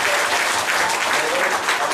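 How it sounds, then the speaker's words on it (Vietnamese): Audience applause fills a hall at the closing ceremony of an evangelical mission federation's general assembly, a dense steady wash of clapping held at even loudness throughout. "chúng ta hãy vỗ tay tất cả các ban hành"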